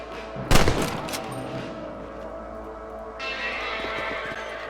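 A burst of gunfire rings out in a Red Dead Redemption rabbit hunt, one loud close shot cluster followed by fading echoes and a few fainter shots over a steady outdoor ambience.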